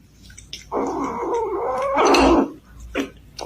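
A mean cat lets out a long, throaty growl that rises into a harsh yowl, followed by short hissing spits, close and fairly loud.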